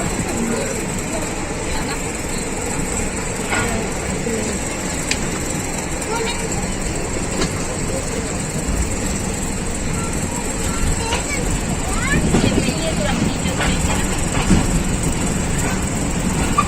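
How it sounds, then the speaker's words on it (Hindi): The Millat Express, a Pakistan Railways passenger train, is heard from inside as it runs: a continuous rumble and rattle of the moving carriage with occasional faint clicks. "18 डाउन मिलत एक्सप्रेस बरवाल से रवाना।"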